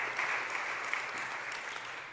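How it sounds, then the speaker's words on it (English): An audience at a property tax relief bill signing applauds steadily, a dense even clapping throughout at moderate distance. "Give Council President a round of applause"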